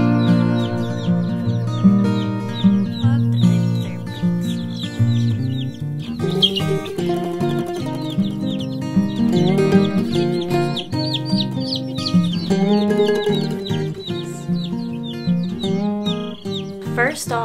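Baby chicks newly brought home for a brooder cheep in quick, high, overlapping chirps, continuing steadily over a sustained tonal background.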